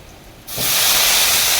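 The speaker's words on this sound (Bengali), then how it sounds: "পেঁয়াজগুলো ভালোভাবে ভেজে নিচ্ছি" Onions frying in a pan for a Bengali ridge gourd and potato dish: a sudden loud, steady hiss bursts in after a quiet start and holds at full strength to the end.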